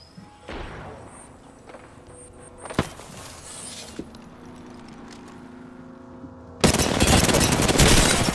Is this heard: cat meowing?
no